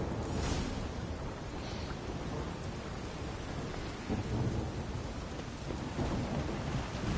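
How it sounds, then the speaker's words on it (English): Thunderstorm with steady rain in The Witcher 3 video game at night, a continuous dense downpour hiss with low thunder rumbles rolling underneath throughout, no voices. "There's a dark and stormy night."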